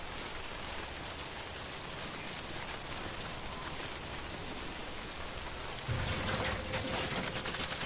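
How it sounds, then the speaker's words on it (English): Rain pouring down in the Death Stranding video game, a dense continuous hiss of falling drops that swells noticeably louder near the end, with no voices. "Ooh, getting rained on like crazy."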